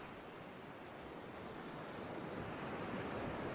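Ocean surf washes steadily onto a beach under open sky beside a vast sea, a continuous broadband roar of breaking waves mixed with wind that swells slightly louder toward the end, with no voices.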